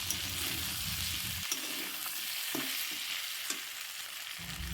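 Pieces of tripe fry in a pan and are stirred, making a continuous sizzling hiss with occasional faint spatula scrapes, steady and fairly close, with no talk.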